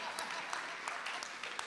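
A chapel audience claps for volunteers in a brief, even patter of many hands, steady and moderately loud, with a voice faintly underneath.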